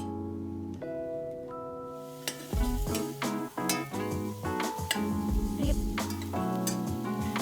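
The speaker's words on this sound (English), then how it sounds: "continue to sauté for a few more minutes or until the mushrooms have wilted a bit" Sliced mushrooms sauté in a saucepan, a sizzle with stirring and light clinks that starts partway through over background music.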